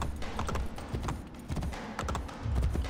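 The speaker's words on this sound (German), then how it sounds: "Okay, da stehen noch Pferde." Horses' hooves clip-clop in irregular, rapid beats at a steady moderate level in the video game Assassin's Creed: Brotherhood, with no talk over them.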